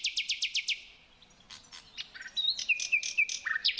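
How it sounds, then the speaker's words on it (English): A nightingale sings at dawn: a fast run of sharp repeated notes opens the phrase, then after a short pause it gives varied chirps and whistled trills. The song is clear and alone over a quiet background. "to the long and varied melodies of the nightingale,"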